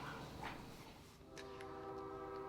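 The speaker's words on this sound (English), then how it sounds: "Train." A train passes outside at night, a low rumble with a sustained horn-like tonal blast rising in the second half, steady and fairly loud with no talking.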